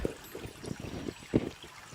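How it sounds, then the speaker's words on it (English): Water trickles and dribbles steadily through a homemade trickle tower, a soft, faint, close splashing with small irregular drips and no talk. "Trickling really good."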